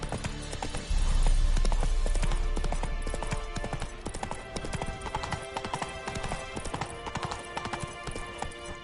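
Roach, Geralt's horse in The Witcher video game, trots with steady rhythmic hoof clip-clops over a continuous game ambience and music bed, loud and close throughout with a brief snort near the start.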